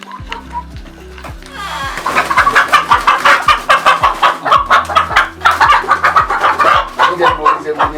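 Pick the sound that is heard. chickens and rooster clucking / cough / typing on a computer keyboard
chickens and rooster clucking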